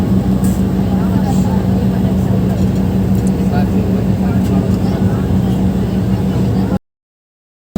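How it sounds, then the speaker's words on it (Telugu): A steady, loud low engine drone with a constant hum as an airplane rolls along the runway at Shivamogga before takeoff, continuous for several seconds before cutting to silence. "రన్వే మీద బయలుదేరుతుంది విమానం"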